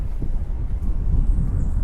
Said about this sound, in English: Oh, it's getting a little windy here.